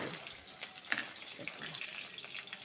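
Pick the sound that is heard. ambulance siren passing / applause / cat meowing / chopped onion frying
chopped onion frying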